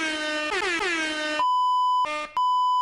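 Beep buttons on a RODE Streamer X pad sound loud steady electronic bleeps. A harsh buzzy horn-like tone comes first, then a long pure beep, a brief break, and more beeps.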